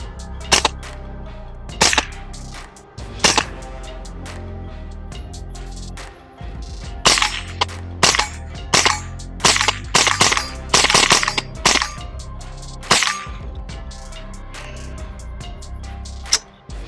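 An AR-15-style airsoft rifle with a 3D-printed spade grip fires at an outdoor shooting range, about a dozen sharp, loud cracks in irregular bursts and singles over a low steady background hum.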